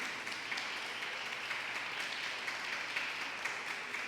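Church congregation applauding during a service, a dense, continuous wash of clapping heard from some distance and fairly faint throughout, with no speech on top.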